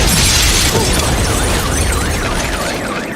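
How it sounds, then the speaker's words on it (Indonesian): A bank vault blown open by an explosion in a film: a loud, dense blast and roar of debris with shattering and clattering, dying away into a rumbling wash and a warbling alarm-like tone, with no voices. "Well, they just blew the vault."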